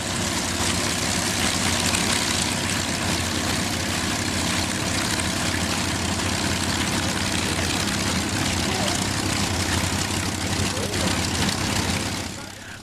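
Avro Lancaster bomber taxiing with its propeller engines running: a continuous heavy, droning roar, loud and steady, that eases off slightly at the very end.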